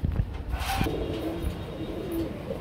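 Pigeons at a market selling running pigeons: soft, low cooing that rises from a steady background hum over a few seconds, close by but not loud.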